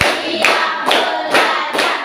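Rhythmic hand clapping in a counting clap game, with sharp bursts of several hands striking together at an even beat, about four claps in two seconds, loud and close with no voices.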